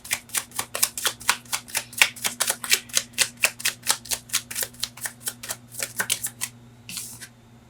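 Tarot cards shuffled close by in a quick, steady run of crisp slapping bursts, about four per second, carrying on for several seconds before trailing off into quiet, with no talking.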